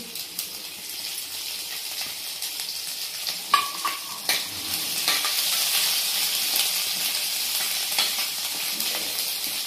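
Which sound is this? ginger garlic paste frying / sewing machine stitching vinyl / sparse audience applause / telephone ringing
ginger garlic paste frying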